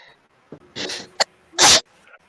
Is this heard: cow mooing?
no